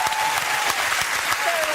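Studio audience applause on a talk show, a thick, loud wash of clapping that stays even for the whole short stretch, with a faint tone and a little voice beneath.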